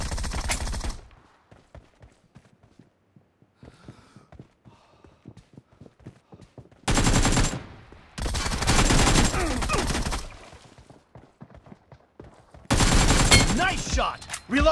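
Gunfire from a shooter game pitting an AKM against a Groza comes in several loud, dense automatic bursts, each lasting one to three seconds. Quieter footsteps and clatter fill the pauses between bursts, and short voice callouts are heard.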